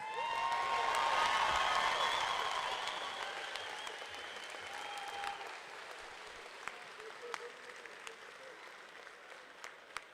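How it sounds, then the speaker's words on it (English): A crowd at a combat sports event gives loud, sustained applause that swells early, then slowly fades into scattered claps and sharp single hand claps. "We need to give them a huge round of applause"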